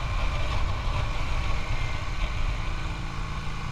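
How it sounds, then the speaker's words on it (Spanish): A Yamaha Virago 535 motorcycle engine idles steadily, with a continuous low rumble and a close, uneven throb. No distinct backfire pops stand out, and no one speaks. "Cuando acelero mucho, al final petardea un poco."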